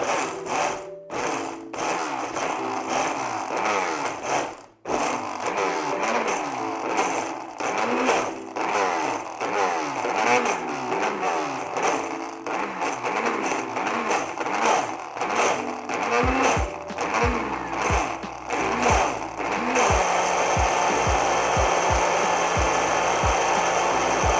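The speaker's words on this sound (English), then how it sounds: "now we're gonna start blending" Kitchen blender whirring as it purees ingredients for a homemade chipotle lime queso, a loud continuous motor roar with pitch shifts and brief dips as the load changes, running steadily throughout with no talking.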